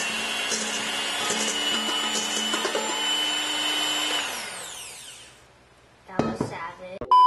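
A loud, steady electric mixer whirs while whipping a Milo dalgona mixture, then winds down and stops, followed by brief clattering and a voice.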